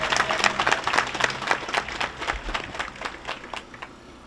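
A crowd at a political rally in Bantè applauds, a dense burst of clapping that starts strong and gradually thins out over a few seconds.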